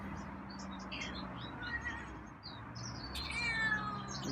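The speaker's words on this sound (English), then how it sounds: "Meowing." A feral cat meows a few times over a steady low background hum, the cries fairly close and moderately loud.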